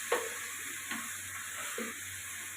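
Garlic and ginger fry with onion in a pan for dal gosht, giving a soft, steady sizzle with a few quiet clinks of stirring.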